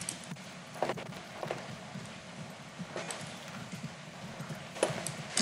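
Horse hooves clip-clop at an unhurried walking pace in Assassin's Creed 3, a soft steady rhythm over a low background hum, with a few sharper knocks.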